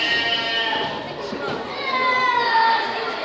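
Sheep bleating on a farm at feeding time, drawn-out wavering bleats close by, mixed with excited voices of people and children talking over them.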